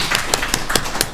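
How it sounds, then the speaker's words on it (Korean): Short burst of applause from a church congregation welcoming a youth ministry team leader at a Sunday worship service, a few sharp claps standing out over the patter. "박수로 환영해 주시죠"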